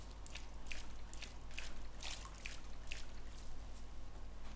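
Slow, irregular water drips in the horror video game Slender echo over a low steady hum, each drop soft and spaced about half a second apart.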